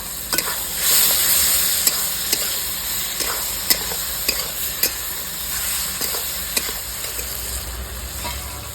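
Ingredients for eggplant bharta sautéing in a pan, a constant close sizzle broken by sharp spatula clicks and scrapes at irregular intervals, with no voices.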